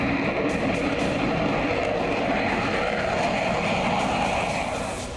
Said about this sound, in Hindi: अमेरिका के फाइटर जेट F-35 की अदृश्य शक्ति भारत के दुश्मनों की छुट्टी करेगी।